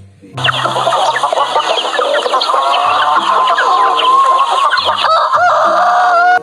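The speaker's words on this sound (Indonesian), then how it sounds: "ini adalah ayam jago" A rooster crows loudly and clucks close by, with a steady run of calls over about six seconds and no voices.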